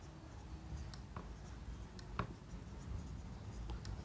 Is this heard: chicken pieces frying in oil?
no